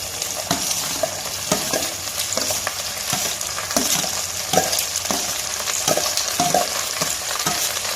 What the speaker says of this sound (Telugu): మనం దీనిలో ఇప్పుడు కట్ చేసి పెట్టుకున్న ఉల్లిపాయ ముక్కలను వేసేద్దాం అలాగే పచ్చిమిరపకాయ ముక్కలు కూడా వేసేద్దాం